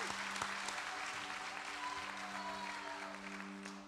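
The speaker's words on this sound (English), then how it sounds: "So can you guys give her a big round of applause?" Applause from a church congregation at a mid-year celebration, a soft, steady wash of clapping with a sustained tone lingering underneath.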